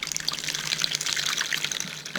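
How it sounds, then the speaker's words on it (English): Water splashes and trickles steadily over produce being stirred in a bowl, a close, continuous pour with no voices. "I'm going to come over here and mix these around, pour them in here"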